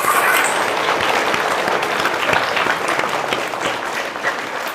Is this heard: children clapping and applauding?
yes